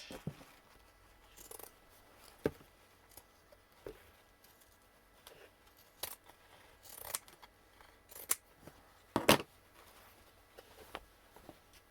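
Scissors snip through fabric during slow hand stitching, a series of sharp, separate close cuts at an uneven pace with quiet pauses between them.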